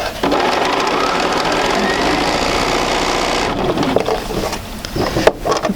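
A sewing machine stitches quilt seams in a fast, even mechanical whir with rapid needle clatter, running steadily up close before slowing into a few stuttering bursts and clicks.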